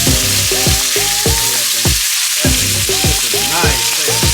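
Loud, constant sizzling and spattering of steak frying in a hot pan fills the clip, with a rising whistle-like tone threading through it.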